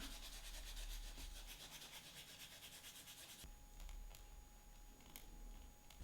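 Faint, close rubbing as a toothpick wrapped in kitchen roll scrubs gunk off a Sheaffer fountain pen, a soft rhythmic scratching with short strokes.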